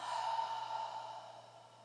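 One long, steady exhale during a guided breathing exercise, close and airy, tapering off gradually over nearly two seconds with no talking.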